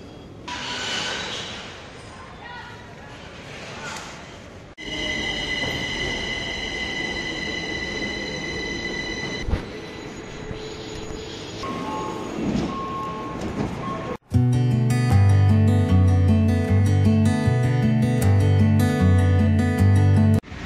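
A Phase 3 metro train pulls in, its rumble and wheel squeal building over several seconds before a loud, rhythmic pattern of electronic beeps and chimes takes over.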